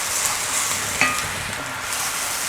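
Onions frying in a pan for a vegan chickpea and butternut squash curry, a close, steady sizzle with a few sharp stirring scrapes, alone with no talk.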